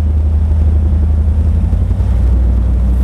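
Big offshore powerboat engines roar on a high-speed run with drives trimmed in and tabs down, a loud, constant, deep rumble close to the microphone.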